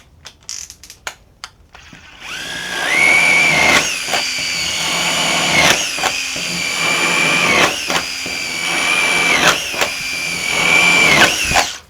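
A Festool TI15 impact drill driver boring a half-inch hole, the motor whining loud and close in long steady runs broken by sharp ratcheting bursts and a few brief clicks at the start, with no talking.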